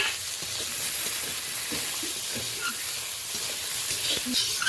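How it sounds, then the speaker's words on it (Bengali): Sliced onion frying in a pan with halved green chillies for a brinjal and hilsa curry, giving a steady, moderately loud sizzling hiss throughout while a person talks underneath. "এই দেখুন পেঁয়াজটা বেশ ভাজা ভাজা হয়ে গেছে, অনেকটাই নরম হয়ে গেছে।"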